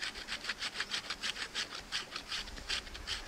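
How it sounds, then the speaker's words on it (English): A knife blade is scraped along bark to make tinder, giving a series of rhythmic, close, fairly quiet rasping strokes roughly three to four per second. "just put your knife blade on it and scrape it"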